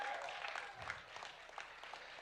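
Light applause from a church-style gathering audience, a steady patter of hands running through the whole stretch at moderate volume, with no clear voices over it.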